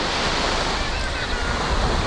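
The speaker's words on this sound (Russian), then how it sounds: "Здесь море очень красивое." Sea waves wash onto the beach at Sarysu near Antalya, a steady loud broadband surf roar with some wind buffeting and no voices.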